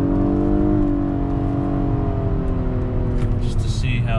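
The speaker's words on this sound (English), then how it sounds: "So here's a good acceleration" A car accelerating, heard from inside the cabin on a GoPro Hero 7 Black on a windy day, with a loud engine tone climbing steadily in pitch and power, then easing as it shifts.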